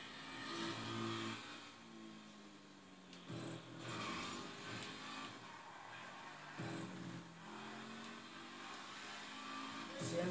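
A car accelerates in the video game GTA 5 Online with a sustained engine drone that rises in pitch several times as it revs through gears. It sits at moderate distance and is fairly quiet, with faint voices at times.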